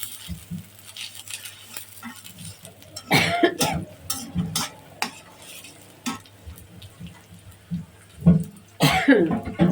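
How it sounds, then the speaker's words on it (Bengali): A few sharp coughs break up background kitchen clatter and stirring, with gaps of quiet between bursts. "কাশি আসতেছে কেন বুঝলাম না"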